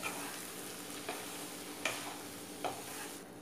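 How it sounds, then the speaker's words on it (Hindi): Grated paneer is folded gently into masala in a pan for paneer bhurji. A steady, quiet sizzle runs throughout, with a few light spoon scrapes against the pan, near and unvoiced. "इस मसाले में हम हमारी ये जो ग्रेटेड पनीर है इसे डाल देंगे और बिल्कुल हल्के हाथ से आप इसे मिक्स कीजिए।"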